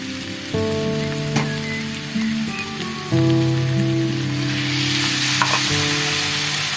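Mustard and chili paste curry cooking in a pan gives a loud, continuous hissing sizzle like steady rain, close by, with sustained musical tones playing underneath.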